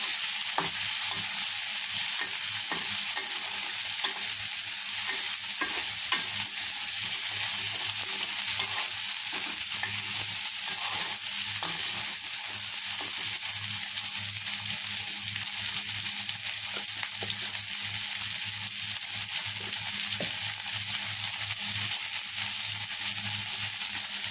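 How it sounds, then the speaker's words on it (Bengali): Peanuts fry in a pan with a steady, loud, continuous sizzle, broken by frequent stirring scrapes and small clatters, close and without speech. "একটু বাদাম করে ভেজে নেবো"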